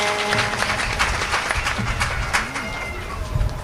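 An audience at a religious storytelling gathering claps in a dense, steady burst of applause, loud and continuous across the short span, with faint background murmur.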